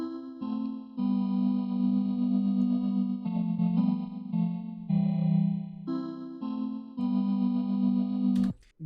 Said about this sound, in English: the new melody that I created with that same key ignition ring